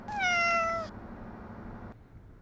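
Cat meowing aboard the cruise ship Independence of the Seas, a single drawn-out, clear meow followed by a low steady background hum.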